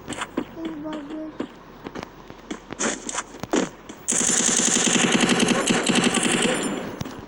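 Gunfire in the mobile shooter game Free Fire: scattered single shots among voices at first, then a loud, unbroken burst of rapid automatic fire that runs to the end.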